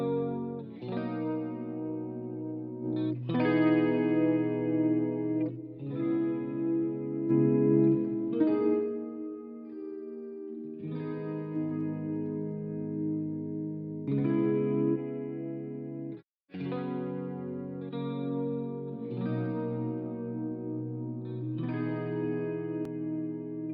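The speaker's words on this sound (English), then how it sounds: "like a DI electric guitar sample here" A DI electric guitar run through a UADx Ocean Way Studios reamp setting plays chorded phrases with a smooth, chorus-like shimmer and light distortion. Sustained notes ring alone in a steady sequence, with one brief gap.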